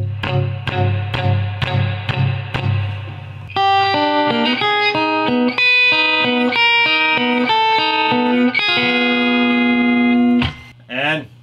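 An electric guitar plays chords through a Traynor Custom Reverb amp, notes ringing out with a lingering spring-reverb tail, ending in a short springy splash.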